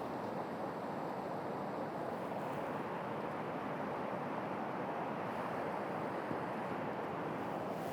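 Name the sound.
ocean waves washing on the shore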